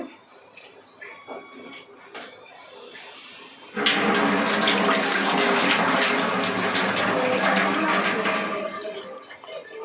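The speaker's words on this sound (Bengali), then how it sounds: "এখন দেখুন আমি আলুটি ভালোভাবে ধুয়ে নিচ্ছি" Soaked potato is washed under a gushing tap, the water starting loudly partway through and running steadily and close after a few quiet handling sounds.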